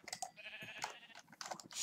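Sheep bleat in the video game Minecraft, short wavering cries repeated several times at low volume alongside faint clicking.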